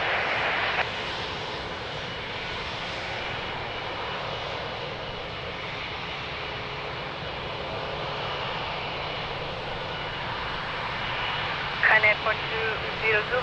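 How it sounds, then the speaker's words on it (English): An Airbus A330 lands at Lisbon Airport, giving a steady, broad jet-engine roar at middle distance that holds evenly throughout. Brief clicks and bumps come near the end. "it always amazes me the landing of the 330"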